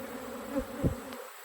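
Honeybees buzzing in a nuc colony box during a hive inspection, a faint low hum with a couple of brief louder buzzes as bees fly close past, quiet and short.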